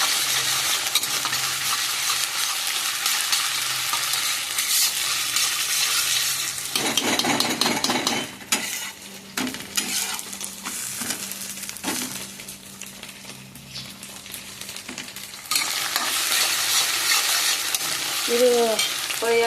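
Masala for suvarna gadde (elephant foot yam) gojju frying in a pan, a steady close sizzle broken by scraping stir strokes, with a quieter stretch midway before the loud frying resumes, and no talking.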